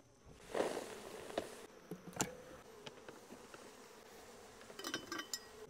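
Honeybees hum softly in a low buzzing drone, with scattered handling knocks and scrapes nearby as bees are scooped into a jar; quiet and close, no talking.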